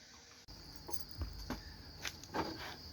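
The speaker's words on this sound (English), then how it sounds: "saturating the peaceful sound of the crickets" Crickets chirp steadily outdoors at a home workspace, a faint continuous high trill with soft scattered knocks and rustles and a distant weed whacker droning underneath.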